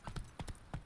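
Horse hooves from The Witcher 3 video game, a quick run of about four hollow clip-clop strikes at a trotting pace, fairly soft and close.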